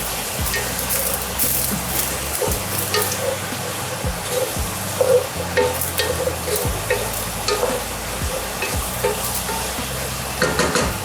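A spoon stirring seasoning, paprika and stock together in a pot for a one-pot chicken and dumplings dish, giving a close wet swishing and scraping in steady repeated strokes over a low simmering hiss.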